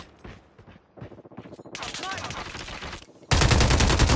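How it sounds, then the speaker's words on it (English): Rapid automatic gunfire from a deployed sentry gun in Call of Duty Mobile, dense sustained bursts that grow louder and harsher near the end, with brief game voice lines early on. "Sentry gun deployed."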